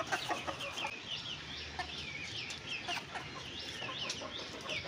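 Several chickens cluck and chatter repeatedly over a soft background hiss, moderately close and fairly quiet.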